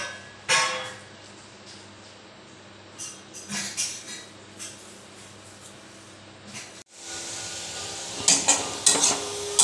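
Potatoes frying with salt in a pan produce intermittent sizzling bursts and scraping stirs, with quiet gaps between, then a louder stretch of hissing and utensil clatter toward the end.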